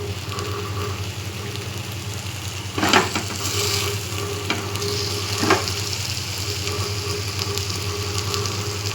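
Fish pieces cook in a spiced garlic paste in a pan, giving a continuous close sizzle over a low steady hum, with a couple of louder stirring scrapes near the middle.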